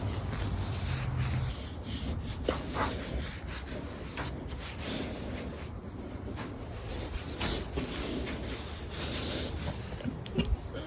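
Close, continuous soft rubbing and scrubbing as a dog's ear is wiped with a wipe, a steady rasping friction with small bumps and shifts throughout and no speech.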